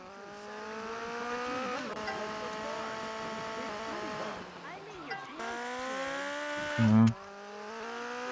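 Motorcycle engine in GTA Vice City Stories on PS2, a buzzing, tonal whine that rises and dips as the bike revs and slows through turns, with a short thump and someone speaking briefly over it.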